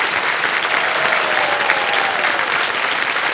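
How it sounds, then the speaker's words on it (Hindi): Loud, sustained applause from a large TV quiz show studio audience, dense and even throughout with no pauses. "एक बार फिर जोरदार तालियां बज जाएंगी।"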